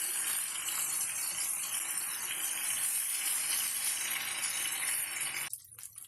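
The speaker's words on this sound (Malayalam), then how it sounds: "ഇനി മറ്റേ വശവും അതേപോലെ തിരിച്ചിട്ട് നമുക്ക് ഫ്രൈ ചെയ്തെടുക്കണം." Masala-coated fish fries in coconut oil in a pan over medium-low flame, a dense, steady sizzle and crackle that fills the clip before cutting off abruptly near the end.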